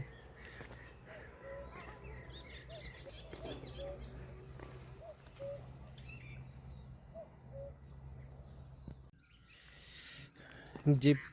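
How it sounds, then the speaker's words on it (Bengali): Birds call across the hills of Lalikharka in East Nepal, with crow-like caws and scattered chirps over a steady low outdoor hum and faint voices, ending in a couple of louder close bursts. "কত রকমের যে পাখি আছে এখানে"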